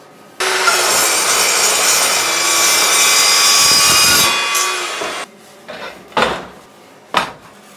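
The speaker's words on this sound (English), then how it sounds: "Finally, a saw that cuts clean." A saw cutting steady and loud for several seconds in a workshop during a tortilla press build, then stopping, followed by a few sharp knocks and scrapes.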